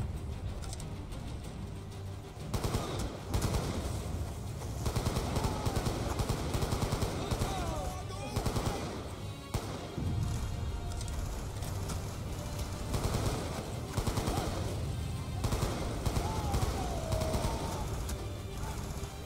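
Rapid bursts of automatic gunfire crackle almost continuously in Black Ops II, the Achilles' Veil mission set in Yemen 2025, with near and distant shots layered over a dense battle din.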